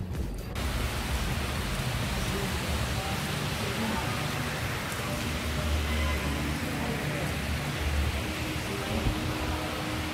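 Heavy rain pours in a constant loud roaring hiss, dense and unbroken for the full stretch, with no voices over it.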